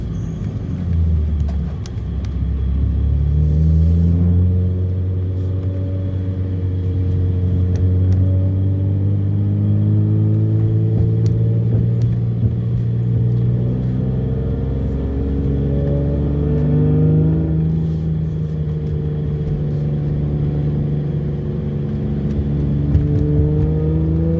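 A BMW E39 with an M54 engine and a converted intake manifold drives uphill. The engine drones from inside the car and climbs through the revs in long rising pulls, then shifts and pulls again, with no talking.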